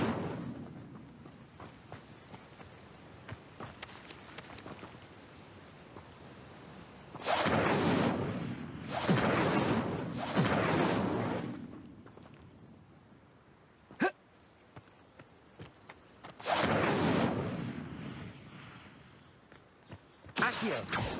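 Incendio fire spell cast in Hogwarts Legacy, several loud whooshing bursts of flame in clusters with a sharp crack in between, over a low game background rumble.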